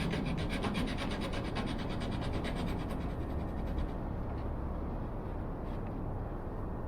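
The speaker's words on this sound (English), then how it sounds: "Zona saw is perfect for this job." A Zona hand saw cuts through a wooden aircraft rib for a Minimax 1100R build in rapid, close, rhythmic rasping strokes that run steadily with no pause and no voices.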